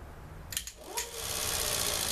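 A big 34V 5.25HP permanent magnet DC motor spins up on a bench, a few clicks giving way to a rising whine that settles into a steady, fairly loud hum.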